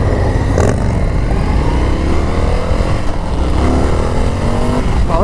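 An Indian FTR 1200 Carbon R motorcycle accelerates on a test ride, its engine a steady loud drone with rising pitch sweeps as it gains speed, mixed with rushing wind noise, no talking.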